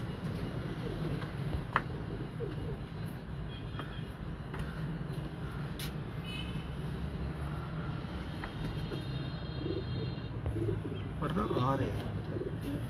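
Kamgar breeder pigeons in a loft, soft low cooing repeating quietly under someone talking, with a few brief higher bird calls and background rumble.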